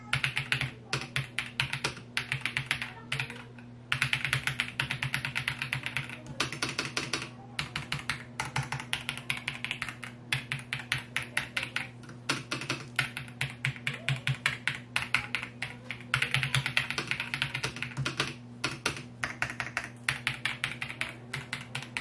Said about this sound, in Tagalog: So ito yung sample sounds ng keyboard natin